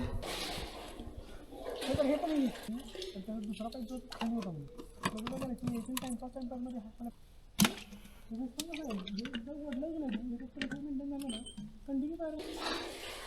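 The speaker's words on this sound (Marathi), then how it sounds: "एक एक करून बॉटल भरतो आहे पाणी एकदम फ्रीजसारखं थंड आहे" Water bottles are filled one after another from a cold spring on a trek up Rohida Fort. Gurgling, splashing water sits under almost continuous nearby talking.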